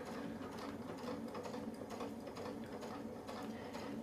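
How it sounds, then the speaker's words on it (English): A sewing machine stitching quilt blocks along a Westalee template, a fast, steady mechanical whirring with rapid needle clatter, close but quiet and uninterrupted throughout. "And this one I will sew down"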